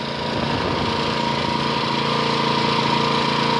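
A small engine dosed with Liqui Moly MoS2 oil additive runs steadily at high RPM, a loud, close, continuous buzzing drone with no talking.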